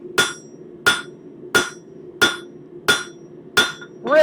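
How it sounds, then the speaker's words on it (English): A cross peen hammer strikes a metal leaf being forged, ringing out six times in a steady, evenly spaced rhythm, loud and close, with a brief metallic ring after the last blow. "the round section of that cross peen hammer, what it's actually doing is it's a very generalized forging hammer"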